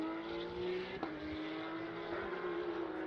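The number 56 Porsche race car at Valencia drones with a steady, high engine whine that holds at the same pitch throughout, heard from a moderate distance.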